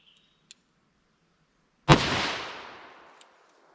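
.357 Magnum fired from a Winchester Defender revolver: a single sharp, loud shot with a long decaying outdoor echo, preceded by a faint click.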